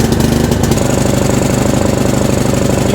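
A Columbia CR30 riding mower's small engine chugs unevenly after starting, a close, loud, lumpy rough idle with irregular pulsing and no voices.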